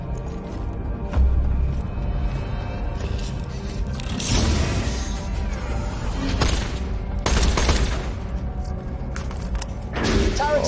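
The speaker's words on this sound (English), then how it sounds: "Oh, I got a laser gun." Laser gun firing in Borderlands: The Pre-Sequel, repeated sharp bursts and booms over a constant rumbling background of game noise, loud and close, with no voices.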